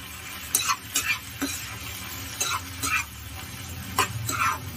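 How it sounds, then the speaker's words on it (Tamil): A spoon stirs kalan curry, a Kerala-style sadya dish, in a pan just after coconut and curd are added, giving several short scraping strokes over a faint steady simmer with no voices. "ஆட் பண்ணி 1 நிமிஷம் நல்லா கலந்து எடுத்துக்கலாம்"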